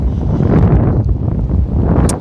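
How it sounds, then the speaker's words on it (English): Steady, loud wind buffeting the microphone at Castlemartyr Castle ruin in County Cork, Ireland, a continuous low roar with gusty swells throughout. "It's very windy today,"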